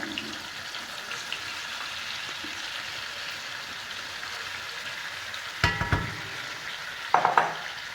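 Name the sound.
chicken tikka frying with yogurt mixture, stirred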